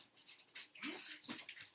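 Dogs are heard being let out in a house, with quiet whining, shuffling and faint jingling sounds over less than two seconds.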